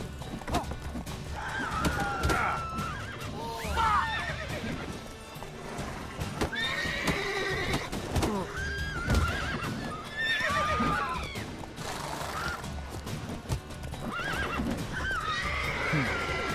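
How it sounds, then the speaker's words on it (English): Several horses in The Witcher III whinny and neigh repeatedly, with agitated cries recurring over hoof clatter and a busy game background. "Horses are going bonkers."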